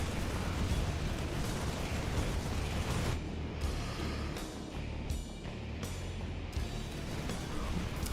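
Gateway buildings blowing up in a StarCraft match, rendered as a dense, continuous roar of game explosions and bursts lasting several seconds, loud and steady with no voices.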